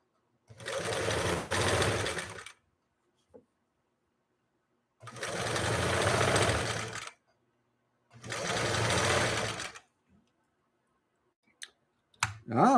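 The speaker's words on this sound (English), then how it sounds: "We'll do a straight stitch, a shorter straight stitch, and then a zigzag." A Singer 328K sewing machine stitches canvas in three separate runs of a few seconds each, a fast mechanical whirring chatter broken by silent pauses, with faint clicks between runs.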